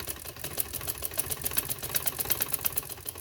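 A sewing machine runs in a fast, steady stitching rhythm while sewing a neck design on a garment, close and moderately loud, with no talking.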